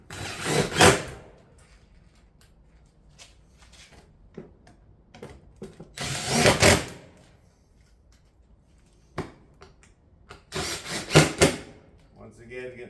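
Cedar shake hip panels being fastened onto a roof, with sharp bursts of nail-gun or hammer fastening at intervals among lighter taps and handling knocks, close and loud, while a person talks in between.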